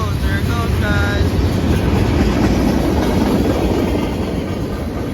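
A CSX freight train rolls past in the rain, a loud, continuous rumble with wheel clatter and brief squeals, heard close by under some talking.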